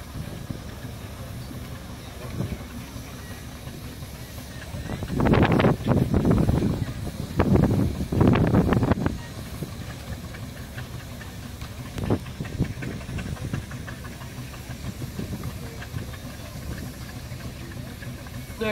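A British steam engine at a steam rally lets off loud bursts of hissing steam, two strong blasts mid-clip, over outdoor crowd murmur and someone talking nearby.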